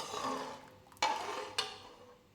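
A semolina sweet being stirred in a pan makes a soft scraping and sizzling, broken by two sharp clinks of the spoon against the pan, with no voices.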